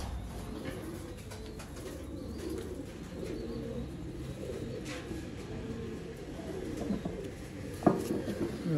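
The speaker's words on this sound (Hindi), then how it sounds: "काले मुँह वाला कबूतर इनू कहांगा मैं" Black-faced pigeons coo in low, repeated rolling phrases, several birds overlapping close by in a park, with a sharp knock near the end.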